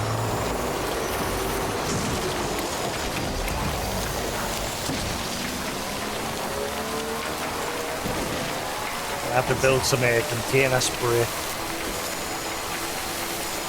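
Rain falls steadily in Death Stranding as a dense, close hiss across the whole clip. Someone speaks briefly and a vehicle's rumble moves underneath, with a short metallic clattering near the end.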